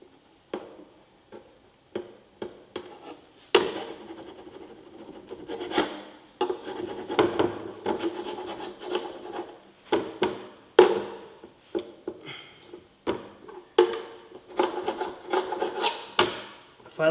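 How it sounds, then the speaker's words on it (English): Scraping and gouging at primed wood to test primer adhesion, a series of close, dry rasping strokes in irregular bursts with short pauses between, alone without talk. "If I like try to gouge the wood, I mean, I can definitely gouge it."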